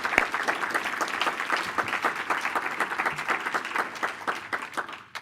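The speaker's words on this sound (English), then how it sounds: "can we give the panel a round of applause?" An audience in Portland, Maine gives a round of applause for a panel. It is a dense burst of many hands clapping at once, fairly loud and steady, fading out quickly in the last half second.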